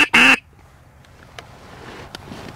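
A mallard drake (greenhead) gives one loud, close quack burst during a duck hunt in northern Canada, followed by faint, scattered distant bird calls over quiet outdoor background.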